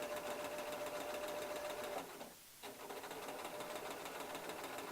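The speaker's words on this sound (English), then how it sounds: "Back stitching at the very end of the front casing" A sewing machine back stitching the casing of a child's sun dress, running in a fast steady rhythmic chatter with a brief half-second pause before resuming, close and alone.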